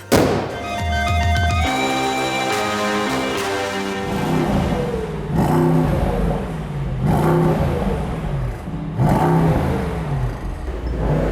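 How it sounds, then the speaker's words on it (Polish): A sudden loud sneeze bursts out during Assassin's Creed 2 gameplay, followed shortly by a second sharp sneeze-like burst, close up over quiet background and faint speech. "to jest porządne brzmienie silnika"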